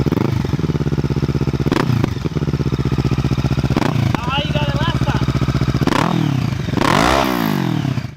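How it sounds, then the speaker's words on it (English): Kawasaki Z650 parallel-twin engine with a 180-degree crank revs repeatedly close up, loud throttle blips rising and falling in quick succession over a steady rumbling idle, with a voice talking over parts of it. "the Z650 has a 180-degree crank, which results in a sound like this."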